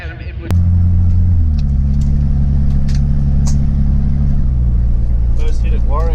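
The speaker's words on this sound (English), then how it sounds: "First hit at Warwick, it's all over the rev limiter. Hit boost cut in second" A turbocharged Holden VK drag car launches at the strip, its engine roaring loud and steady while it bounces against the rev limiter in a stepped, stuttering drone, with faint crowd or commentary noise in the background.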